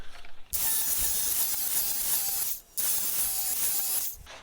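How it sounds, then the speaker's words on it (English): An angle grinder with a flap wheel sharpening a John Deere Z930A zero-turn mower blade: two long, loud, close grinding passes with a whining rasp, separated by a brief pause and ending as the wheel lifts off. "I'm using a grinder with a flap wheel that's not a super aggressive one"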